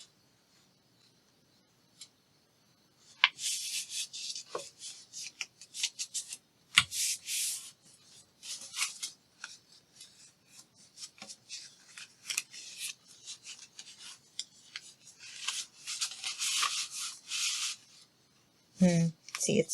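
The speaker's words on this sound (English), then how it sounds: "This is stationery. So fold that in half." A sheet of stationery paper being folded in half gives soft, close crinkling and scraping rustles in bursts, with quiet talk in between.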